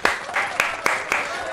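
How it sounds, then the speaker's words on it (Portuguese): Brief clapping for a guest on a Brazilian react show, a few sharp claps with some crowd noise in a short, moderately loud burst. "Ó o Chico Moeda, uma salva de palmas pra ele."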